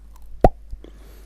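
In the video game State of Decay, a weapon strikes a zombie on the head with a single short dull thud, followed by a faint softer knock in a quiet scene.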